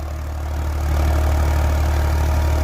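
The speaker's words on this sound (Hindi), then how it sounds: "ट्रैक्टर भी जोर चौगने मार रहा भाई" A Farmtrac 60 tractor, rigged with a 20-disc harrow, runs loud and close with a deep steady diesel throb that swells slightly as it pulls harder.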